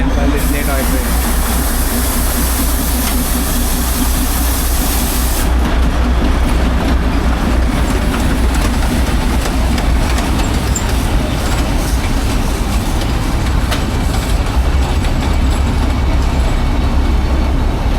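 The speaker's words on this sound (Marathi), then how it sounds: "बघा टॉय ट्रेन कसं आहे" The Matheran hill-station toy train passes close by with a steady, loud rumble and rattling wheel clatter that lasts throughout, while people talk over it.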